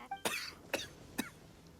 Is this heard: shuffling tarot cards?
no